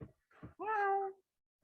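A person imitates a cat meowing: a short, clear, drawn-out meow after a couple of brief breathy sounds, quiet and close in an otherwise silent room.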